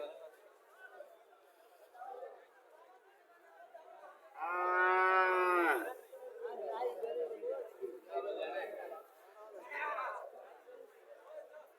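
A dairy cow at a cattle market in Chauddagram, Cumilla, lets out one loud, drawn-out moo partway through, while people chatter before and after it.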